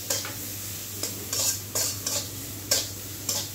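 Onions frying in a pan with very little oil are stirred in quick strokes, each scrape flaring over a soft continuous sizzle, about seven strokes in all.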